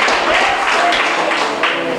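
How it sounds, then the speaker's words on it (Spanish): A church congregation applauds together during a sermon, a dense, steady wash of clapping from many hands that continues throughout, fairly close and loud, with no voices over it. "Iglesia, aplaudan a Dios."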